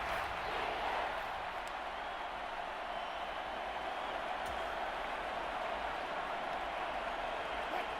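Stadium crowd in the Madden 24 football video game roars steadily before a big third down, a dense, even wash of cheering noise holding throughout at moderate volume.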